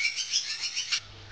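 A white-rumped shama (murai batu) from a breeder's stock gives a short, bright run of high chirps and warbled notes, fairly close and clear, that stops abruptly after about a second.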